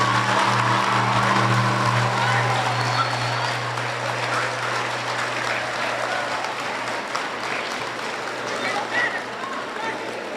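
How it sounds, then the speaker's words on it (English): Students at the Norristown Area High School Spice Day yearbook celebration applaud themselves, a broad, steady wall of clapping from a large crowd over a low electrical hum, with some murmuring voices underneath. "give yourselves a round of applause"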